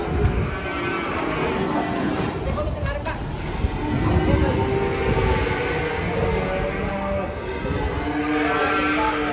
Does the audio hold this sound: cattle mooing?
yes